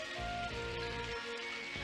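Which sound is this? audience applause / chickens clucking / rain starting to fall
rain starting to fall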